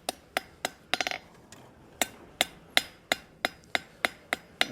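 Hammer blows on a forged iron hinge scroll resting on an anvil, giving it a light bevel: about a dozen sharp, ringing metallic strikes at a steady rhythm, with a quick flurry of taps near the start, close and loud.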